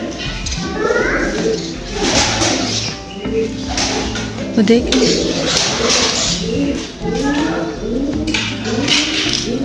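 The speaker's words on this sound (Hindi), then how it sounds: "ये देखें जी, ये कबूतर है माशाल्लाह।" Pigeons cooing at a small zoo near a mountaintop in Hail City, Saudi Arabia, repeated soft coos amid busy outdoor chatter, with adults and children talking nearby.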